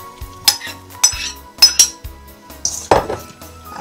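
A metal utensil stirs noodles with an egg, mozzarella and herb mixture in a dish, making a series of loud, close clinks and scrapes at an irregular rhythm with quiet gaps.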